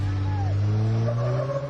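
A Honda truck towing a pickup truck, heard as a steady, close engine drone with a rising whine and tyre squeal over it.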